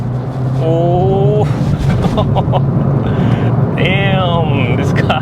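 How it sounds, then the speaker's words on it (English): A Suzuki Swift Sport engine revs hard as it accelerates after a downshift to third, rising whine sweeping upward twice, loud and close, with a brief exclamation from a voice in the cabin. "So let's downshift to 5th, to 4th, to 3rd, and let's go."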